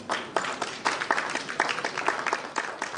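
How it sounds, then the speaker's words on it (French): Audience at a leadership conference in Côte d'Ivoire applauds, a steady patter of many hands clapping with scattered louder claps, moderately close and without speech. "Est-ce qu'on peut applaudir pour la Côte d'Ivoire,"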